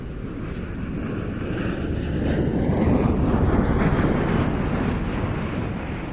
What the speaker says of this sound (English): In from the right, this from the 7th Special Operations Squadron, the Bell Boeing CV-22B Osprey.